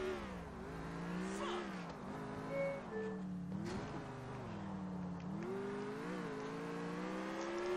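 Car engine droning and revving while driving in GTA IV, with harmonic pitch rising and falling across shifting throttle, steady and fairly close, no talk over it.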